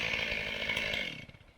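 A chainsaw runs steadily, loud and close, on a forest road, its buzzing drone holding for over a second before tapering off.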